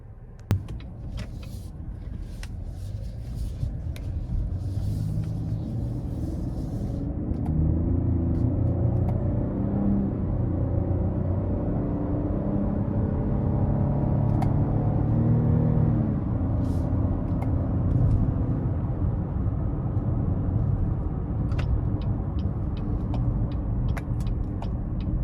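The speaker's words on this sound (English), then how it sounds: "we go ahead and take this XT5 Sport out on the road for a quick test drive" A 2023 Cadillac XT5 Sport pulls away and drives on the road, a low steady engine and road rumble heard from inside the cabin that builds and holds for about twenty seconds, with a few faint clicks and no talking.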